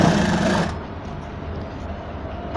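A sewing machine stitches around the pocket of a ladies' palazzo trouser, a loud steady mechanical whir that stops abruptly after about a second, leaving a low hum.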